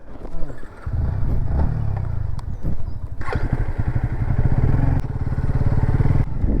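A motorcycle ridden at speed, its engine droning loud and close throughout with steady revving and rising throttle, carried over rushing wind and road noise.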